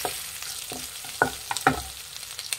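Three long-cut green chillies frying in ginger garlic paste for spinach rice, a soft steady sizzle broken by several distinct stir-and-scrape strokes of a spoon in the pan.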